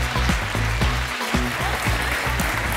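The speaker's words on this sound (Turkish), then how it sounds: "alkışlarınızla." A television studio audience claps in a dense, steady burst of applause that is loud and close and holds through the whole moment.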